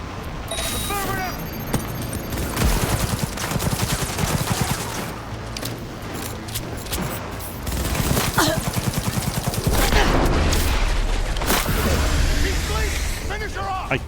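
Dense gunfire in the video game Cyberpunk 2077, with rapid automatic bursts and repeated shots in a chaotic firefight, interspersed with shouted voices.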